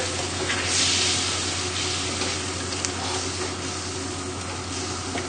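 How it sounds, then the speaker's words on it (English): Pumpkin risotto with freshly added stock simmers in a pan, giving a steady close sizzle and bubbling with a soft stirring swish near the start, continuous and fairly loud over a low background hum. "I'll give that a nice stir now."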